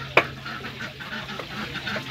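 A few scattered duck quacks and honks over a faint background, one sharper call near the start.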